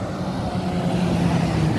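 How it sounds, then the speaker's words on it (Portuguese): A truck passing on the BR-304 highway by a roadside fuel station, a loud, steady low engine rumble and road roar close by with no break. "Aí vem aqui um outro caminhão"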